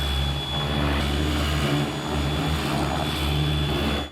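A pressure washer cleans a Honda TRX 300 quad, its motor droning steadily and loudly alongside a constant hissing spray for the whole stretch, with no talking.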